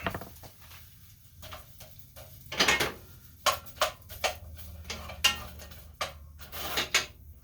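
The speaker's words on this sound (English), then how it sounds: "we're just going to cut it in chunks" A knife chops an onion into chunks on a cutting board, giving scattered sharp knocks and taps at an uneven pace, close and fairly quiet, with faint rustling between strikes.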